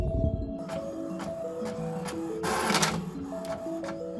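A home printer prints copies of a small zine, giving a steady mechanical whir and rumble with regular clicks and a louder feed surge partway through.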